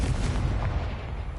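A Confringo spell blast goes off in the Hogwarts Legacy video game: a short, booming burst with a heavy low thump and quick fading rumble, heard alone.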